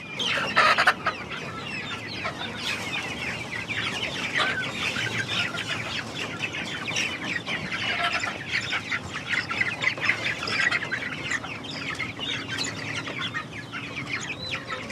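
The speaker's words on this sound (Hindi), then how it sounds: "ब्रॉयलर फीड के ऊपर इस तरह तड़पता है" Broiler chickens in a flock cluck and squawk continuously over their feed, a dense, busy chorus of fowl calls filling the whole stretch without any talk.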